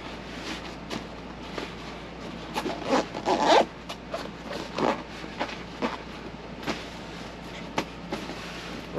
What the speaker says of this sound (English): Dual zippers on that one as well